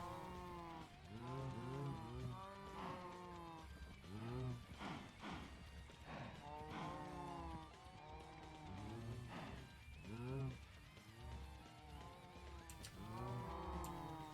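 Cattle lowing in a Minecraft world, several repeated moos in a steady string, fairly close and alone with no talk over them.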